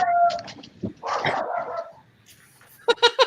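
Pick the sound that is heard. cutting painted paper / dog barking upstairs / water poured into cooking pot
dog barking upstairs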